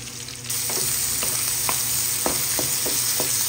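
Garlic sautéing in a pan for ginisang ampalaya with egg gives a steady close sizzle, with scattered sharp clicks and scrapes from stirring.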